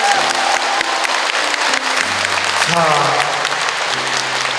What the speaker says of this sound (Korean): 자, 여러분 박수 한번 보내주세요.